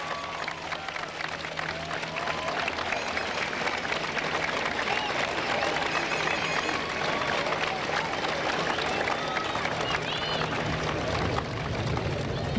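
Large audience at a 1997 high school graduation ceremony clapping for parents and grandparents, a dense, continuous wash of many hands that holds steady throughout, with faint crowd murmur underneath.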